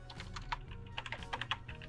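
Rapid typing on a computer keyboard, a close run of crisp, irregular key clicks with a few louder strikes, with no speech.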